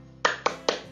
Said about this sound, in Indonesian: Guys, kita tepuk accounting dulu yuk.